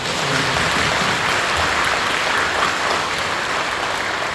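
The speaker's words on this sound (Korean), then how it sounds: "우리 먼저 좀 환영하는 박수 한번 주시죠." Welcoming applause from a church congregation during a worship service, a steady dense wash of many hands clapping at moderate loudness throughout, with no voices over it.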